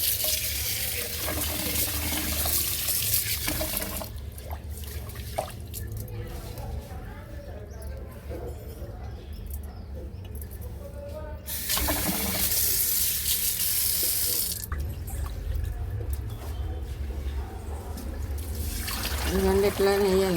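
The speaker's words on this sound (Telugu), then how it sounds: "కొంచెం కొంచెం వాటర్ వేసి ఒక క్లాత్ మీద వేయాలి" Water is poured a little at a time over ragi (finger millet) grains onto a cloth at home to wash out sand, giving bursts of splashing and trickling separated by quieter pauses.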